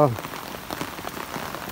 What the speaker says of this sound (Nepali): पुसको महिनामा नि यसरी झरी लागेको छ एकदमै चिसो हावा चलेको छ